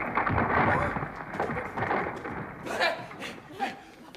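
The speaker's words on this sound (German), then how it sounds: "So eine blöde Donnerzauberei." A rumbling thunder sound effect in a children's clown show, a rolling crash that swells and fades over several seconds, with brief louder surges near the end.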